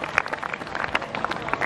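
Scattered clapping from schoolchildren at a Heroes' Day school ceremony, a fairly brisk patter of hands heard at moderate distance, thin and brief without voices over it.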